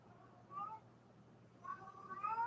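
A domestic cat meows twice close by, a short call near the start and a longer, rising call toward the end, over a faint steady hum.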